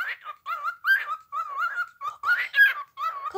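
A parrot imitates a dog, giving a close, steady string of short yipping bow-wow calls with brief gaps between them.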